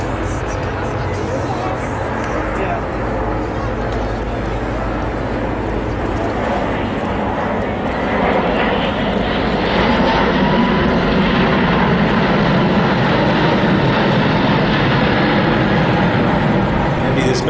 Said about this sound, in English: What an amazing sight, what an amazing aircraft this is.